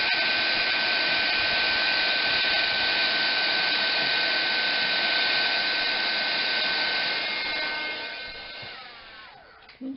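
A heat gun runs steadily, blowing hot air to melt embossing powder in a papercraft project, a loud continuous whir with a faint tonal whine that fades and drops away near the end.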